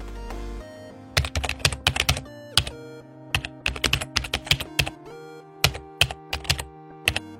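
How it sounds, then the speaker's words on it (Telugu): Text being typed on an iPhone keyboard, heard as close, irregular bursts of quick key taps and clicks with short pauses between groups, alone and without speech. "మనకి ఏ టెక్స్ట్ అయితే అది స్పీక్ అవుట్ చేయాలో ఆ టెక్స్ట్ ని మనం ఇక్కడ టైప్ చేసుకోవాలి."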